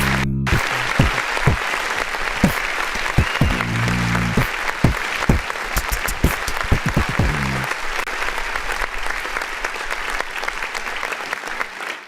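Applause sound effect triggered by a clap button on a music review show, a loud crowd clapping burst that runs continuously with scattered sharp claps, playing alone throughout.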